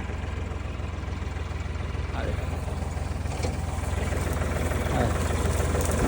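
A tractor engine idles steadily, a constant deep rumble with faint vibration that grows slightly louder toward the end.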